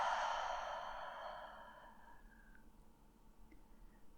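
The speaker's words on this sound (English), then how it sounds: "Exhale, open your mouth and blow it out." One big exhale is blown out through an open mouth during a seated yoga practice, a breathy rush that is close at first and fades slowly into quiet.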